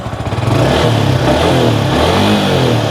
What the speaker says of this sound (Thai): มาสตาร์ทรถกันดีกว่า ทีเดียวติดไม่ต้องบิดคันเร่งช่วยเลยนะครับผม